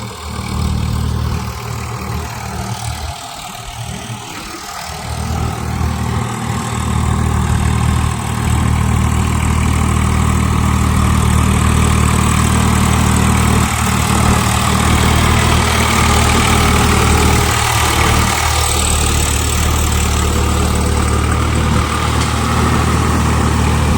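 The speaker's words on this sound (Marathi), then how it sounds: "केव गरकन फिरवतो ट्रॅक्टर पाहिला का मित्रांनो" A tractor engine runs steadily in a flooded rice field during a long monsoon, a loud continuous low idle-like drone with no speech.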